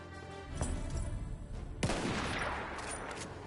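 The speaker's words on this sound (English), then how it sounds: "I keep getting fucking shot by snipers." Gunfire in the video game Battlefield 1, a steady crackle of shots with a sharp louder burst partway through, fairly close and continuous, with no talking over it.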